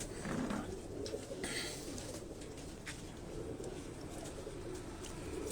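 Pigeons coo steadily on a pigeon breeder's rooftop in Karachi, producing a soft, continuous murmur of calls over a hissy outdoor background.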